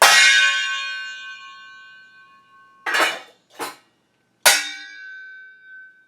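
A metal straw and other metal kitchenware clang loudly with a long ringing decay, followed by three more sharp metallic crashes, each shimmering like a struck cymbal.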